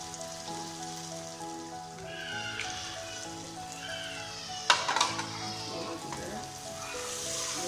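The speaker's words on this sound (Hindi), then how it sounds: "फ्राई करें। खुशबू आ रही है, खूबसूरत है।" Bitter gourd and potato bhajia fry in hot oil, giving a steady, close crackling sizzle throughout with a brief sharper burst of spattering near the middle.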